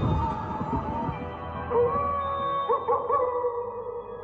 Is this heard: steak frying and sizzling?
no